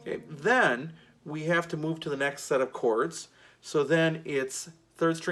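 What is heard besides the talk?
No everyday noise stands out behind the speech.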